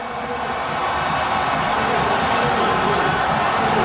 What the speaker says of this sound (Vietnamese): Anh xứng đáng được nhận những tràng vỗ tay.